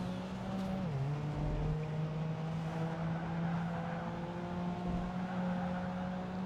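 A GT2 race car engine in the racing game Project Gotham Racing 2 holds a steady, loud drone, with one pitch drop as it shifts early on and then a long, even pull at high revs.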